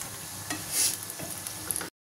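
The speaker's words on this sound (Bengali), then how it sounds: "দেখো একটু লাল করে ভেজে নেবো।" Close hiss of chicken frying until browned in a pan with a few soft stirring scrapes, lasting under two seconds before cutting off abruptly.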